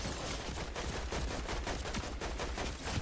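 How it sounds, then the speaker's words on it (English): Dense rapid SMG fire in Fortnite, a continuous rattling burst of crackling shots mixed with chaotic game noise, steady and fairly loud throughout. "That was an SMG?"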